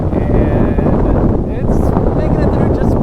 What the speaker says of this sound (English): I hope you can hear me through this wind.